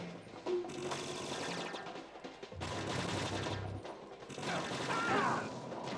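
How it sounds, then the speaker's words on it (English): Stun grenades go off in Metal Gear Solid 2, with bursts of harsh, crackling blasts and clattering noise coming in several loud waves over a few seconds. "I'm gonna use a stun grenade right here."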